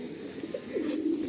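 Pigeons coo on a rooftop loft in Tollygunge, Kolkata, with soft, rolling low coos rising and falling in a few close phrases against quiet background noise.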